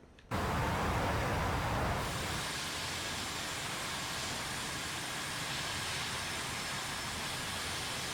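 An A-4 Skyhawk jet climbs out after takeoff in DCS World, a loud steady roar of engine and wind noise that swells at the start and then holds as a dense, broadband rush.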